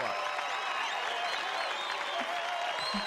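A crowd applauds during a late-night talk show stream. The clapping is a sustained, even wash of moderate loudness that runs unbroken throughout, with no talk over it.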